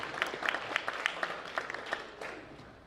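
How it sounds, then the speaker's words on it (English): Audience at an academic awards ceremony breaks into applause, a dense patter of many hands clapping at moderate volume that holds steady for a few seconds with no talk over it. "Give him a round of applause."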